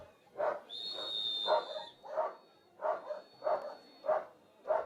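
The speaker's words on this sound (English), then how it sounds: "Dog's not happy. They want to be out watching." A dog barks repeatedly beside a downhill mountain bike race course in Valparaiso, roughly eight fairly close barks in a steady rhythm, with a brief high whistle-like tone behind the first few.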